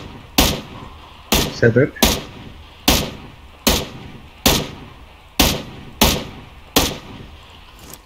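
About nine sharp single gunshots from a battle-royale shooter, PUBG Lite, fired at a steady pace roughly once a second, loud and close, with a brief spoken word between the shots.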